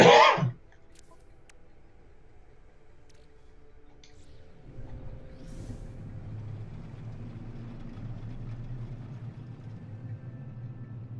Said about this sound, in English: I do cough a lot